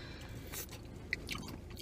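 Swiss Chalet fries and dark-meat chicken are chewed in soft, close crunchy bites, faint and quiet with a few sharper snaps.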